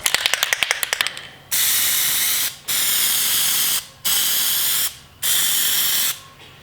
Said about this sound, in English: I'm gonna be spraying down this area one more time with the plasti dip